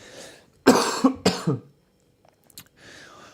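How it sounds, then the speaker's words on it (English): Two sharp coughs in quick succession, close and fairly loud, followed by a brief throat sound and quiet. "I still have a bit of a cough from this week."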